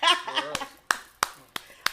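After a short laugh, several sharp single hand claps ring out at roughly even intervals, close and crisp in a quiet studio podcast setting.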